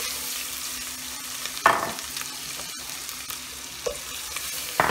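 Ginger, garlic and green chili paste fry in a pan with a steady, dense sizzle, and a spoon gives a few brief stirring scrapes and taps, close and continuous, with no speech.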